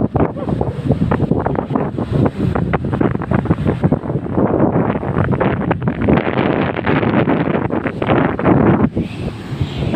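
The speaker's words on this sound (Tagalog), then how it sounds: "Ang lakas lang ng alon, guys." Strong ocean waves surge and crash along the shore in Quezon, broadband churning roar with heavy wind buffeting the microphone throughout.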